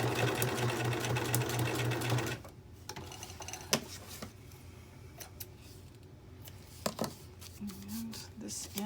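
A sewing machine runs a fast zigzag stitch on a journal, a loud mechanical chatter for about two seconds that then stops, followed by quiet handling noises, light taps and a brief voice.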